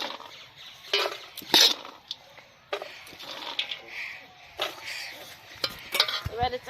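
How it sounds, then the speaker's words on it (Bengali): Spiced puffed rice and chanachur are stirred in a bowl in a village kitchen, with a spoon scraping and clinking in irregular bursts between quieter pauses. "এবারে চানাচুরটা মিশিয়ে নিচ্ছি।"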